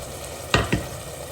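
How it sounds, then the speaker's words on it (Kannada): Ground masala paste frying with rice in hot oil, heard as two short stirring scrapes over a steady low sizzle. "ಮಸಾಲೆ ಸ್ವಲ್ಪ ಹಸಿ ವಾಸನೆ ಹೋಗುವವರೆಗೆ ಹುರ್ಕೋಬೇಕು"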